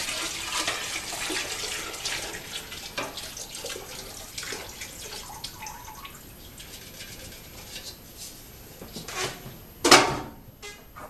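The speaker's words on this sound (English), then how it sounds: "we're going to pour that solution in there" Liquid solution for homemade wine splashes and trickles into a bucket in a bursty pour, close by and moderately loud, tapering off, followed by a sharp clatter near the end.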